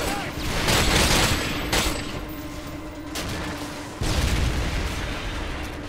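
Loud, dense gunfire crackles alongside heavy booming explosions in Call of Duty: Modern Warfare 2, the barrage rolling on continuously with sudden surges of blasts.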